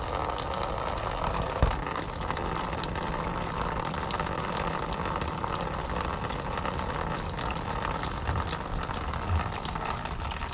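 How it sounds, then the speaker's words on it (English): Coolant pours from an opened car radiator in a steady, continuous gushing splash, loud and close throughout with no pauses. "So now I open the radiator cup. So it should drain faster."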